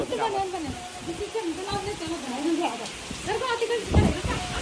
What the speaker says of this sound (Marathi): पाऊस तर खतरनाक सुरू आहे